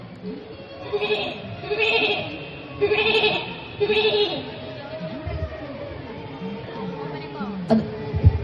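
A performer imitates a goat bleating with his voice, in a school arts festival mimicry act; three loud, wavering bleats come in a steady rhythm near the mic, followed by lower voice sounds and a short sharp noise at the end.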